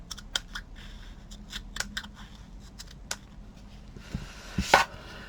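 Scissors trimming pieces straight, giving a series of sharp, separate snips and clicks with a brief rustle near the end, close by and fairly quiet, with no talking.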